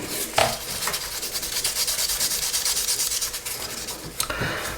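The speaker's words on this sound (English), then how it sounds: "that's pretty much sanded up enough to what I'm trying to achieve with this particular model anyway" Rough, rhythmic rasping of sandpaper rubbed over a plastic 1:72 Airfix Hunting Percival Jet Provost model kit, with quick back-and-forth strokes, close and clear with no talking.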